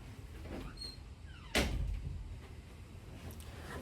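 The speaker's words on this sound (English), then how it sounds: "Let me close the door" A door shuts with a single soft thud halfway through, faint against low room hum.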